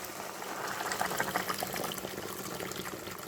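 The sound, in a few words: boiling water poured into a couscous pot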